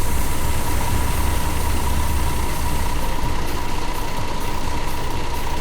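A bus engine in the Fernbus Simulator game idles with a steady, loud low rumble and a constant hum, running alone without voices.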